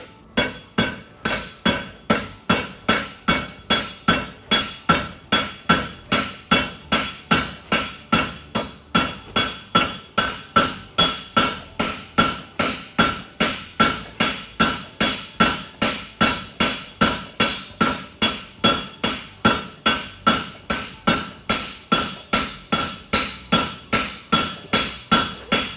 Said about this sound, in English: And then I can forge my wedge back into itself.